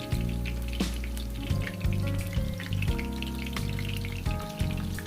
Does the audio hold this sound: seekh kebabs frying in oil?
yes